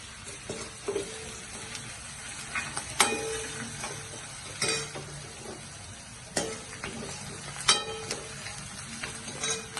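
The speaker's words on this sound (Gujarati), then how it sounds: "હવે આપણે એમાં 1 ચમચી લસણ અને આદુની પેસ્ટ નાખીશું" Garlic-ginger paste frying with softened onions in a pan for a soybean curry, sizzling steadily up close while a spoon stirs and taps the pan in irregular clinks and scrapes, with no voices.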